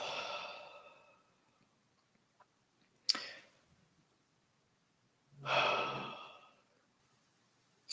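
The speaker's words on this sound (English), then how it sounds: "Take another deep breath." Slow, deep breaths during a guided spiritual practice session: a long drawn exhale fades out, a brief sharp intake follows, then another full, breathy breath swells and trails away, close and alone with no talking.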